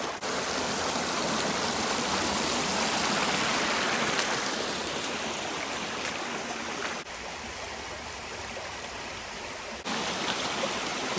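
A woodland creek flows over rocks in a steady, full rush of water, close and constant throughout with no voices.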